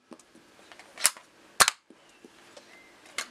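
Toy dart blaster fired with sharp, loud cracks: two strong shots near the middle and a third toward the end, each preceded by fainter clicks of loading and priming, with no talking.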